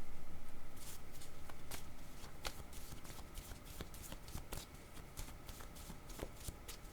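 Picture cards for a reading are shuffled and drawn close by. A soft, papery riffle comes first, then a run of quick flicks and snaps as single cards slide free, fairly quiet, with no voice.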